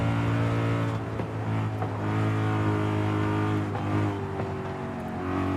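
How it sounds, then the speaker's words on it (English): A Mercedes-AMG V8 in Forza Horizon 5 drones steadily with a loud, deep engine note and a strong induction roar. The pitch rises and falls slightly as the car cruises and accelerates, with no voices. "I love how this V8 sounds. The induction sound is crazy."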